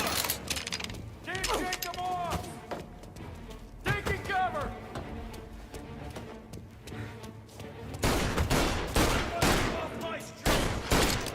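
Gunfire in Mafia: The Definitive Edition crackles in scattered volleys of sharp shots, some in quick bursts, mixed with shouting voices and metallic clatter, loudest near the end.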